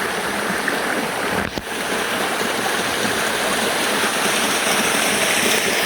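Steady broadband rush of a small river flowing through open countryside among rice fields, continuous and fairly close, with no voices.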